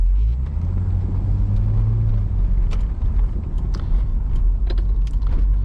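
A Chevrolet Corvette C6 convertible with an automatic transmission rumbles on a test drive, its engine a steady loud low drone with faint clicks above, and no voices.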